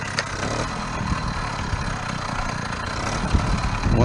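Small gasoline engine on a motorized bicycle running with the choke half on while not fully warmed up, a steady, moderately loud idle rumble with slight unevenness and a few bumps.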